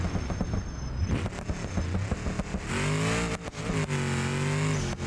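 A car engine in the BeamNG driving game revs hard, dips briefly during a first-to-second gear shift, then climbs again with a loud, rising mid-pitched drone, no talking.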